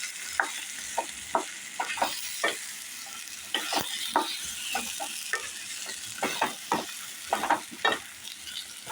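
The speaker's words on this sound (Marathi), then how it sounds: "आता ह्याच्यामध्ये आपण वांगी घालून घेऊया आणि परत परतून घेऊया चांगलं" Brinjal sautés in a pan over medium heat with a continuous hiss of frying, punctuated by repeated sharp scrapes and knocks of a spatula stirring, close and clear, with no talking.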